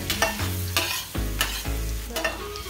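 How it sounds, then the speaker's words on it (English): Minced garlic browns in a pan, a close, loud sizzle broken by repeated scraping stir strokes in an uneven rhythm, with no voices. "So let's just brown it a little bit."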